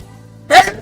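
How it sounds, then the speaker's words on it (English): A single short, sharp sneeze bursts out close to the microphone after a moment of near quiet. "I'm going to sneeze"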